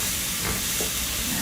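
Garlic sizzling steadily in a hot pan, a soft continuous hiss and crackle of frying with faint stirring, close and moderately quiet with no talking.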